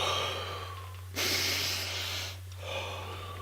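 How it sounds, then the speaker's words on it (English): Deep, conscious breathing is heard up close: a slow inhale, then a long, airy exhale, and a softer breath starting at the end, all over a low steady hum. "Deep, conscious breaths,"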